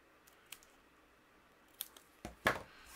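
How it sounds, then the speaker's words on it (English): Scissors trim glitter cardstock around a die-cut shape and clip its corners for a handmade winter card, giving a few sparse, quiet snips spread out, with the crispest cuts near the end. "I'm going to trim around it just using my scissors. We'll just clip those corners."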